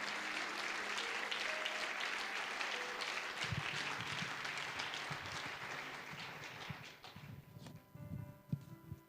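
Congregation at a church district conference session applauds, a dense wash of many hands clapping for several seconds that thins out, with some scattered thumps and shuffling toward the end.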